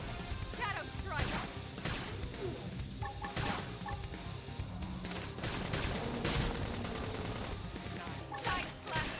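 Shadow Strike combat attack in Xenoblade Chronicles X: Definitive Edition, heard as a dense run of loud impact crashes and gunfire-like bursts over battle music, with a voice calling out moves.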